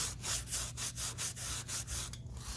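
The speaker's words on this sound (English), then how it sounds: "we're just going to use a Scotch-Brite pad to lightly scuff it" A Scotch-Brite pad scuffs the bead of a tire rim in quick back-and-forth strokes, around eight steady rubbing passes. The close, gritty scrubbing has a low hum underneath and no talking.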